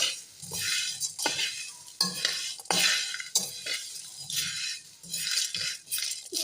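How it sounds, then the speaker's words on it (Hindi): Whole spices and cloves dry-roasting in a pan over a low flame for homemade garam masala, heard as repeated bursts of stirring and scraping, with hard little spices rattling against the metal in an uneven rhythm, close and fairly loud. "अब मैं इसको बिल्कुल हल्की आंच पे थोड़ी सी देर भूनूंगी, 1-2 मिनट।"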